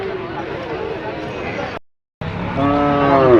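Shal bulls at a cattle market, with a low drawn-out moo rising near the end over a constant crowd and voice background.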